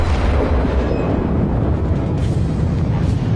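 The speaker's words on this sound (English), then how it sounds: "And that's a Citadel penetration. Battleship destroyed." A battleship citadel penetration in World of Warships (Myogi-class battleship replay) sounds as a dense, sustained low-frequency boom and rumbling blast that stays loud throughout, without a clear single onset.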